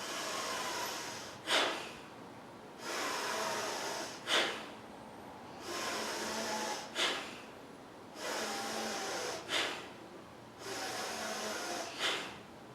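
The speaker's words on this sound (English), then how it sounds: "Inhale first. And then there's an abrupt exhale." Rhythmic yoga breathing exercise: five long, steady inhales through the nose, each ending in a sharp, abrupt exhale, close and clear in a quiet room with no talking.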